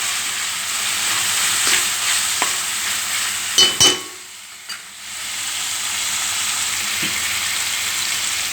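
Coriander and mint go into a frying pan for Kodad-style uggani bajji, a strong continuous sizzle with a burst of close stirring clatter midway before the frying hiss settles back in.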